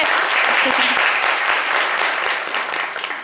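Loud audience applause on a live radio-style show, a steady, close crowd of clapping hands that tapers slightly toward the end, with some voices faintly underneath.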